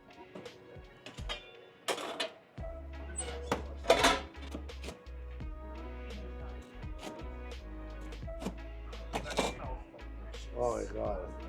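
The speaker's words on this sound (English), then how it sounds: "Listen to the crunch as it goes through that crust." A knife crunches through a pizza crust with a browned bottom, giving a run of sharp, crackly snaps and scrapes over a low steady hum, with a voice speaking at moments.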